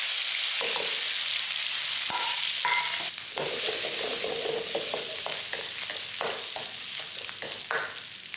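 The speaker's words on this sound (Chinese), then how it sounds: "然后虾米先进来爆香。" Dried shrimp sizzle in hot oil in a wok, a steady loud frying hiss broken by scattered crackles and pops, with occasional clinks of a stirring utensil.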